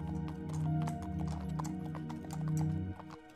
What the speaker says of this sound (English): Melody Bee points out five horses that are trotting in a very orderly way.